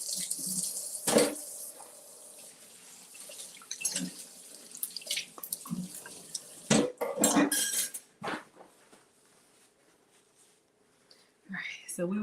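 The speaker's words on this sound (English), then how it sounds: "Let's rinse this off." Food being rinsed under a running kitchen tap while making a tuna mousse sandwich, with water splashing and dishes and utensils clinking close by, broken by a few louder knocks and soft speech.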